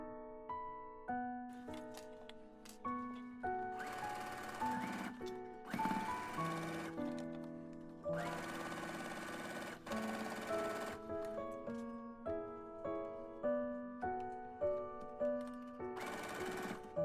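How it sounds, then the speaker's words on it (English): A sewing machine stitches the side seams and pocket surround of a sleeveless maxi sundress in outer fabric, running in several close bursts of rapid mechanical whirring and ticking, separated by short pauses, over soft background music. "Sew the front and back side seam of the outer fabric, including the pocket back surround."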